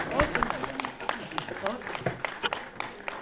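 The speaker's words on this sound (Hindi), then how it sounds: "बहुत जोरदार तालियां" An audience at a literature festival applauds after a poetry recitation, a ragged patter of clapping mixed with talking voices and crowd noise.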